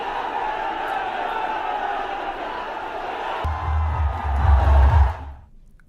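Unruly crowd at an election rally in Phulpur, Uttar Pradesh, attended by Rahul Gandhi and Akhilesh Yadav, a dense, steady roar of many voices that swells louder with a deep rumble near the end before dropping away abruptly.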